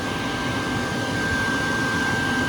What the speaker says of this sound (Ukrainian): Аератор працює.